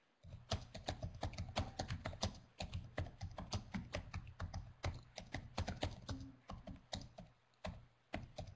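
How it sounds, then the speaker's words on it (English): Rapid typing on a computer keyboard, a dense run of crisp key clicks in uneven bursts with brief pauses, close and clear with no talk over it. "We're getting lots of typing"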